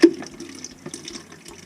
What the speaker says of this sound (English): We're going to get some water out of here. All the water that's in the pump